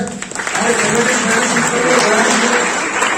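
Applause from a college seminar audience on the role of police, a thick, continuous wash of many people clapping at once, loud and close, with a voice briefly audible underneath.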